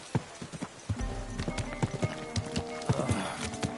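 A horse's hooves clip-clop close by in an irregular series of hard knocks, some doubled, over a busy outdoor background with a faint low rumble.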